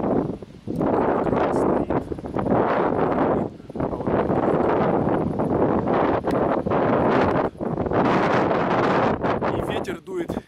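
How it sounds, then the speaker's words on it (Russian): Strong wind buffets the microphone in loud, continuous roaring gusts with brief dips, recorded outdoors at a seaside spot during a motorcycle trip from Kyiv to Gdańsk. "И ветер дует неимоверный"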